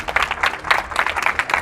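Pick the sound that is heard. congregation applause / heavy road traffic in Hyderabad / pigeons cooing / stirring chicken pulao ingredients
congregation applause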